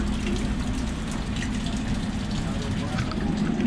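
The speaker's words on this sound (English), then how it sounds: "How would it feel to have your own personal indoor waterfall?" An indoor waterfall spills over a rock formation inside a house, producing a continuous, even rushing and gushing of water at moderate volume, close by, with no clear speech.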